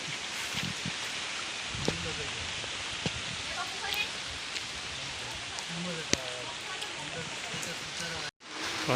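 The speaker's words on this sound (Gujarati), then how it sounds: "તો આખા દિવસનો વરસાદ ચાલુ છે." Steady rain hisses throughout, with scattered drips and patters standing out, and a brief dropout near the end.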